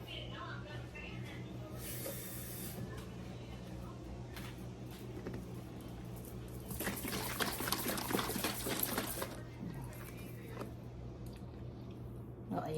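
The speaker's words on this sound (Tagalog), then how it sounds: "Okay, lagyan natin siya ng konting tubig." Water is poured into a pan in two short bursts, a brief splash followed by a longer hissing pour, over a low steady background hum.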